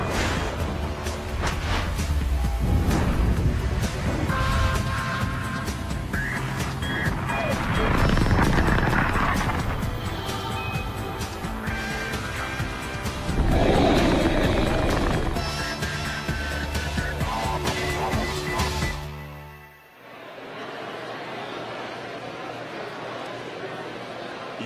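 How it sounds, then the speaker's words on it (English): A SpaceX Falcon 9 Full Thrust rocket lifts off on the CRS-12 mission with a sustained, heavy roaring rumble that swells and pulses for about twenty seconds before cutting to a quieter hiss, with talk over it. "liftoff. Falcon 9."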